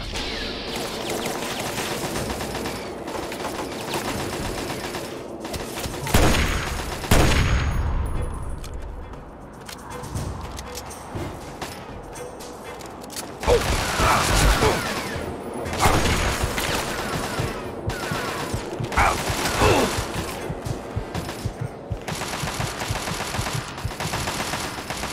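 Turret gunfire in Fallout 3, long rattling machine-gun bursts with several loud blasts and booms breaking in, continuous and close over about twenty-five seconds.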